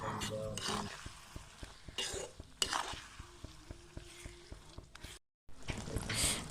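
Raw mango pickle with turmeric, salt and chopped green chilies being stirred in a pan, a spoon scraping in quick repeated strokes over a soft sizzle, close and clear, with brief gaps.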